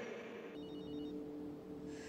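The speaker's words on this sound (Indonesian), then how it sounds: "Lewat ringtone yang dibuatnya sendiri, dia berpura-pura mendapatkan telepon dari seseorang" A phone ringtone plays steadily, a sustained electronic tone with faint higher beeping layered on top, fairly quiet and continuous.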